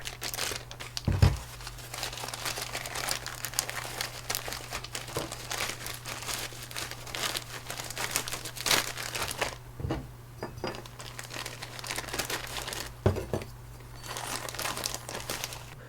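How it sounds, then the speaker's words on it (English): A plastic Ziploc bag crinkles and rustles as a budget trowel is handled and put inside, with several louder crackles and pauses over a faint steady hum. No speech. "somewhere in my bag I have a Ziploc bag, and then I put this in"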